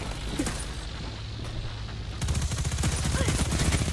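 Rapid weapon fire in a Destiny 2 six-versus-six Iron Banner multiplayer match crackles in dense bursts, growing louder and heavier in the second half of the short stretch.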